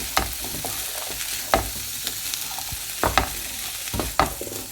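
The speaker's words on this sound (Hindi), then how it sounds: "अब इसको हम अच्छे से मिक्स कर लेते हैं।" A spoon stirs and tosses black chickpea chaat ingredients in a bowl, with irregular clinks and scrapes against a soft continuous hiss and no talking.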